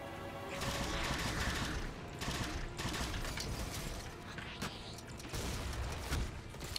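Sustained machine gun fire from the game Halo 4 rattles in dense, continuous bursts with brief gaps, loud and close, mixed with mechanical clanks.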